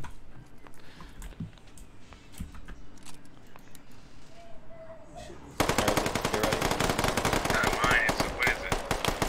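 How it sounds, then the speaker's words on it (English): Rapid automatic gunfire in the video game Squad, quiet scattered shots at first, then a loud sustained burst of close shooting that continues to the end, with players talking over it. "Stop shooting him."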